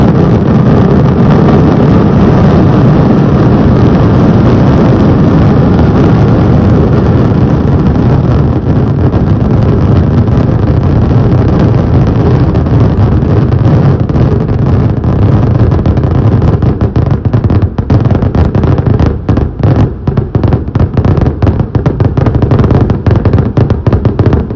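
Fireworks barrage at the Nenmara Vallanghi Vela temple festival in Kerala: a relentless, very loud wall of rapid bursts and deep booming rumble, overloaded and wind-like, continuing without pause.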